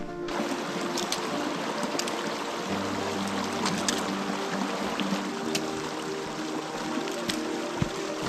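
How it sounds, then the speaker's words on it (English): A river on the Pacific Crest Trail on the way to Kennedy Meadows, its water rushing and trickling in a steady broadband wash that fills the whole clip, with no voices over it. "This must be the river"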